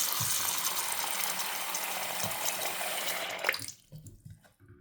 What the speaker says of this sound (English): I'll put it actually in the sink. And I'm just gonna let some water run in it.